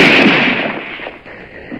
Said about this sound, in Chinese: 两边同时枪声大作